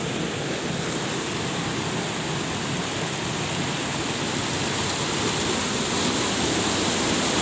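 Water drains steadily from a tank into a hydel overflow channel that feeds a river, a loud, constant rushing wash that stays even from start to finish with no voices.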